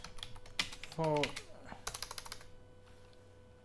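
Computer keyboard typing while a description is filled in for a WordPress custom post type, heard as quick scattered keystrokes under a brief spoken word, with a faint steady hum behind them.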